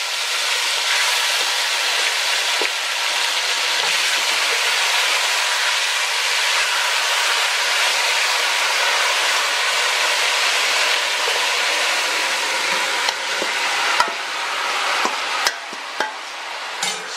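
Seasoned oxtails searing in a hot pot of caramelized sugar for oxtail pelau, a loud steady broadband sizzle that holds evenly throughout, with a few small pops and clicks near the end.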